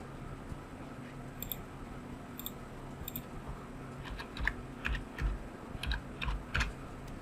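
Someone types an OTP code on a computer keyboard: a few isolated key clicks, then a quicker cluster of crisp, close taps over a low room hum, with no talking.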